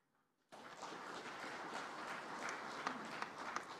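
An audience breaks into sudden, sustained applause after half a second of near silence, a dense even wash of many hands clapping with a few sharper claps standing out.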